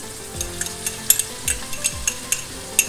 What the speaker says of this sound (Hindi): और अच्छी तरह से मिक्स करेंगे।